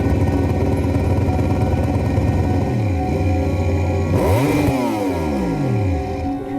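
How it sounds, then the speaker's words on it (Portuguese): A MotoGP racing motorcycle engine revving hard and continuously, loud and close, with sharp rising and falling pitch sweeps as the throttle is blipped near the end of the 2021 season. No talking. "Cortar giro com a moto é algo que todos os pilotos fazem"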